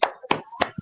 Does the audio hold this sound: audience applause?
yes